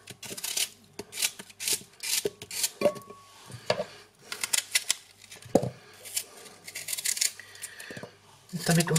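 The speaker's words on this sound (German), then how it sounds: "Einfach Äpfel schälen, Kerngehäuse entfernen und in kleine Stücke schneiden." Apples being peeled, cored and cut into small pieces with a knife, a run of close scraping strokes and sharp cutting taps with short pauses, a few knocks on a board and a brief soft voice.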